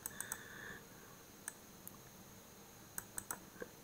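A computer mouse clicks in short sharp bursts, some single and some in quick pairs, close and clear over a quiet room while circuit connections are drawn in simulation software.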